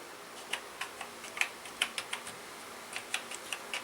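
Keys clacking on an Amstrad CPC 464 home computer keyboard, a series of sharp, close individual presses with uneven rhythm and a short pause midway, heard alone over faint background hiss.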